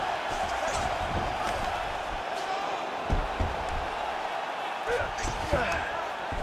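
A steady crowd roar fills an arena in the UFC 5 fighting video game as two fighters scramble back to their feet, with occasional thuds rising above it and a commentator talking over the noise.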